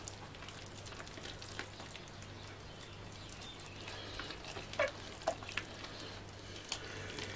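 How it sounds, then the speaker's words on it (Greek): Spices being stirred in a cooking pot, a faint, steady sizzle with soft scraping and a few small clinks toward the end, no voices. "Και αφού βάλαμε και τα μυρωδικά μας όλα, ανακατεύουμε."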